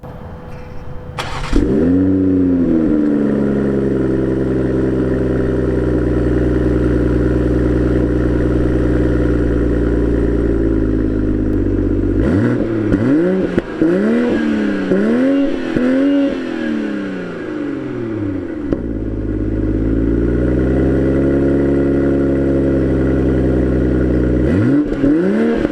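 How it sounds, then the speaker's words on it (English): BMW Z4 M40i with an active valved exhaust starting up and revving: a sharp ignition bark settles into a deep idle, then a burst of quick, loud throttle blips and a final rising rev, all close and continuous with no talk. "So let's hear what this thing sounds like."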